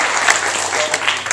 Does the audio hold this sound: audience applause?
yes